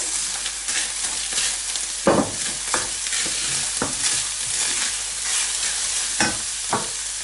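Minced meat fries in oil in a wide pan, a continuous close sizzle with occasional louder scraping knocks of a utensil stirring it, and no voices.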